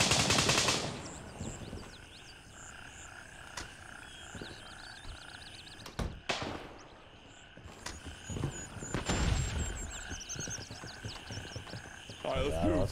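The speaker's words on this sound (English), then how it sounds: "Someone's shooting out here." Gunfire in the video game Gray Zone Warfare, with a few sharp shots and short bursts spread out amid outdoor jungle ambience and chirping wildlife, while people talk.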